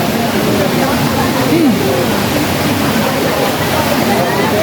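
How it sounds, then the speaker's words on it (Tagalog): Waterfall at the end of a modern, river-like water channel at Villa Escudero resort, a steady broadband rush of falling water running under scattered nearby talk. "Tapos may waterfalls sa dulo."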